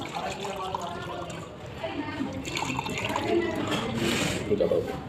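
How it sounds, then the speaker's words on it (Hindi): Water being poured from a tap into two drinking glasses for a hair oil demonstration, a close splashing trickle and fill that rises toward the end. "मैं फिर से ये दोनों ही ग्लास में पानी भर रहा हूँ,"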